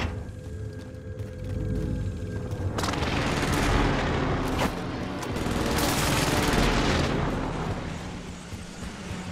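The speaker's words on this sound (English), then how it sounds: "Allied precision airstrike incoming." Allied precision airstrike in a video game, a long rolling barrage of heavy explosions and crackling blasts that swells and sustains for several seconds, loud and close.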